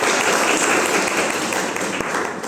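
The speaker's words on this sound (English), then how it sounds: "a big hand of applause for all the Open finalist teams" An audience at the BRAC Open 2024 final claps and applauds for the Open finalist teams, a dense continuous burst of clapping from a crowd that fades slightly toward the end.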